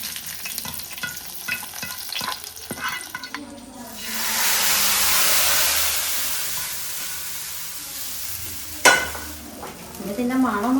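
Liquid poured over liver curry cooking in a pan bursts into a loud, broad sizzle that swells and then slowly fades, followed by a sharp clatter and further stirring and pan noises.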